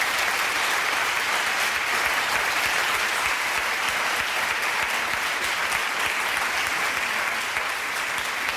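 Loud, sustained audience applause fills the room at a Catalan-language gathering, a dense steady clatter of many clapping hands with no talk over it.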